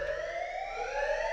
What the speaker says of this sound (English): The alarms!